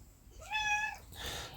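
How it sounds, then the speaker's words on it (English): A cat gives one clear, drawn-out meow close by, rising and then falling, with a short rustling noise after it and no voices. "That's my cat."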